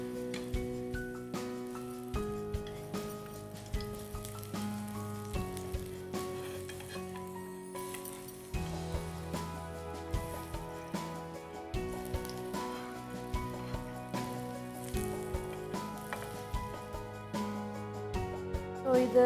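Oil sizzles and crackles steadily in a pan as tikki patties shallow-fry, with occasional soft scraping and stirring sounds over the continuous hiss.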